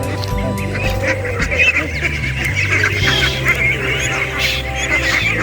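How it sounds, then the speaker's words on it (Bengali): A large flock of Campbell ducklings on a riverside duck farm quacks and peeps in a dense, continuous chorus, with a low background voice now and then. "ক্যাম্বেল হাঁসের বাচ্চাগুলো অনেক সুন্দর"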